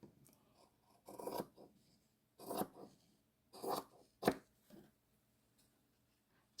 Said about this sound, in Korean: 가위로 오려보도록 할게요.